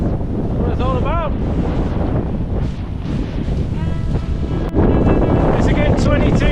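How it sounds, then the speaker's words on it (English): Strong wind batters a sailboat under way on open water in the Netherlands, a loud continuous roar and buffeting rumble with water rushing past, while people talk over it. "the wind came along and there was quite a bit of it"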